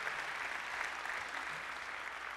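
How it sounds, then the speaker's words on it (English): Audience at the GitHub Universe 2017 opening keynote claps in a steady, dense round of applause, faint and distant throughout the short stretch. "I wanted to start by just giving a huge round of applause and a thank you to specifically the GitHub events team"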